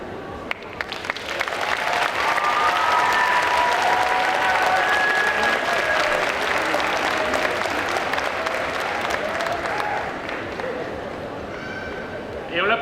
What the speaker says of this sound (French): Et on l'applaudit encore.